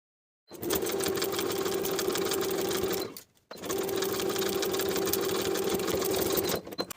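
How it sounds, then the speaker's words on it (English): A sewing machine edge-stitches fleece pajama hems in two steady, rapid bursts of needle chatter separated by a brief pause, close and clear with no talk. "Then we can edge stitch close to the raw or finished edge all the way around for both hems."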